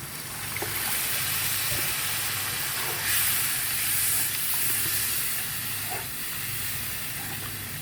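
Water poured into a pan of hot fried spice paste for a gourd and chicken curry, a loud steady steaming hiss that swells briefly midway and then settles, close and alone.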